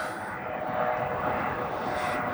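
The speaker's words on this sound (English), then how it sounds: "Another helicopter." A helicopter passes overhead at night outside the closed Rio casino in Las Vegas, its steady broadband engine and rotor drone filling the air continuously at moderate loudness with no voices over it.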